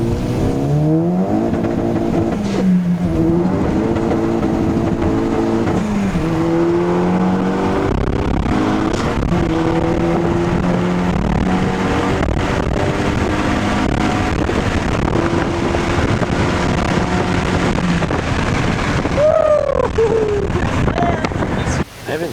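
A car accelerates hard with its wheels spinning, the engine climbing through several rising gear pulls under heavy wind buffeting, with a brief voice in the mix.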